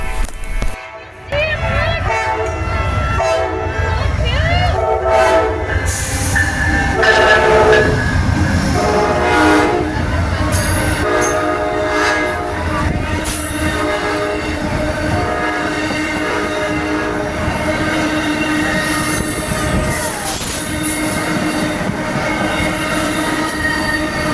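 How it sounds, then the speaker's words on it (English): A short Amtrak passenger train led by a single P42DC locomotive arrives in Ashland, Virginia, its horn sounding loudly over rumbling, clattering wheels and squealing rails. "Next up, we have another Amtrak arriving. It's also short and it has one P42DC leading solo."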